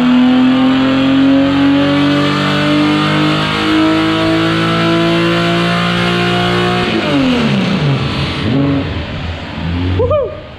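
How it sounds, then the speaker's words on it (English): A Honda LS VTEC engine revving hard and close, holding a loud sustained high-pitched whine before the pitch drops sharply and rises again in quick surges toward the end. "Listen to this car, man."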